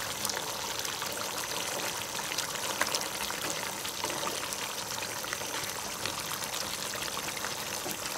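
An egg goes into a pan of curry, giving a steady, even sizzle with a light watery crackle that holds at one level throughout, close by and with no talking.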